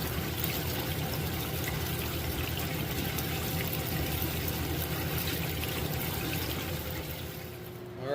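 Water washing out gold-bearing silts and overburden, a steady rushing pour and trickle that stays constant before tapering slightly at the end, fairly quiet with no talk.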